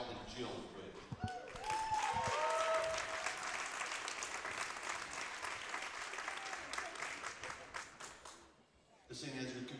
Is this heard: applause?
yes